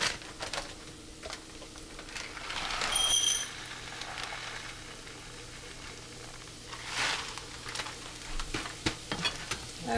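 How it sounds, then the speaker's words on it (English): Arborio rice sautéed with onions in olive oil, stirred in a pan: a steady close sizzle with repeated scraping strokes of the spoon and a couple of louder swishes. "stir it so that the olive oil gets around the rice"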